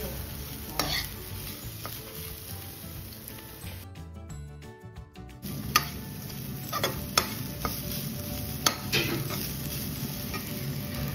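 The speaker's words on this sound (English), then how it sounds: "Now add grated coconut, give it a stir." Grated coconut with curry leaves, chilies and seasoning stirred in a hot pan: a steady close sizzle with repeated scraping and tapping of a spoon against the pan, a brief pause midway, no speech.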